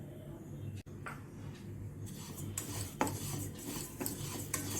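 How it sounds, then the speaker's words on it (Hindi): Sesame seeds roasting over a low flame in a pan, stirred with a utensil that scrapes and rubs against the metal in uneven strokes, fairly quiet, with a soft crackle underneath. "सिम होने के कारण तिल धीरे धीरे ब्राउन हो रहा है।"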